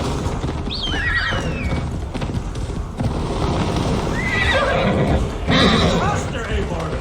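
Horse whinnies ring out over a steady rumble of hooves and background game noise in Assassin's Creed Valhalla, with a voice speaking partway through.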